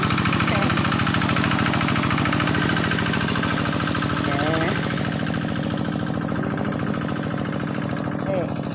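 A tractor engine runs in a rice field during planting, a steady low chugging drone that carries through the whole stretch while someone talks over it.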